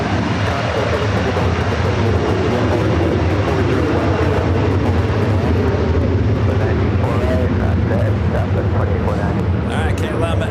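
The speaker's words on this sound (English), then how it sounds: "KLM, next up for takeoff, flight 604, heading back to Amsterdam in this 777-300ER" A KLM Boeing 777-300ER jet roars at takeoff from LAX, its engines a loud, steady broadband rumble that fills the whole stretch, with a voice talking over it.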